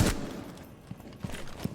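Gunfire in Rainbow Six Siege, fired while aiming down sights for single headshots: a sharp blast at the start, then several lighter, spaced shots that pop over a low background rumble.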